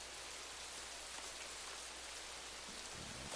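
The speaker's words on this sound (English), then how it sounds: "Oh, here comes the rain." Steady rain in the Rising World video game falls as an even, unbroken hiss of drops on surfaces, moderately loud and constant throughout, with no voices over it.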